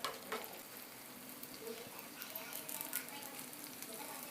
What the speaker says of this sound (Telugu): వీటిని కూడా పోపులో వేసుకుని కొంచెం కలర్ మారేంత వరకు రోస్ట్ చేసుకోవాలి.